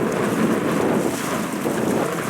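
Steady, blustery wind in a bay at Vasiliki on the Ionian Sea roars across the microphone, with a broad rushing noise that barely lets up and a faint wash of water beneath it.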